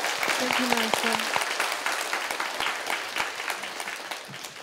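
A crowd claps steadily, with dense overlapping applause that gradually tapers off, and a short bit of voice at the start.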